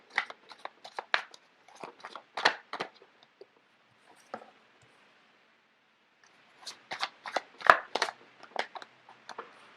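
Tarot cards shuffled close by, two clusters of crisp riffling and slapping bursts separated by a quiet gap, with no talking.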